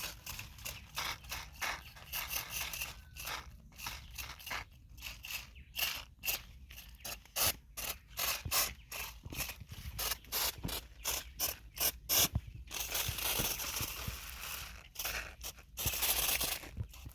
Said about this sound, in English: I'm spraying to prevent aphids and other pests